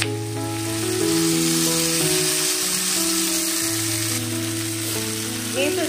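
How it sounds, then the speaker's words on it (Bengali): Rui fish curry is sautéed in a pan with a continuous bright sizzle and frying hiss, under steady background music throughout. "তো এটাকে আমি এখন ভালো করে কষিয়ে নেব।"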